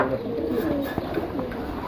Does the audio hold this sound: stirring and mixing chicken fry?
no